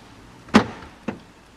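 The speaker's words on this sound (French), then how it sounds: "Commande intérieure de fermeture centralisée des portes du véhicule." Two short mechanical clunks from the central door locking of a Renault Captur, a sharp first thud followed half a second later by a softer one, close and alone in a quiet cabin.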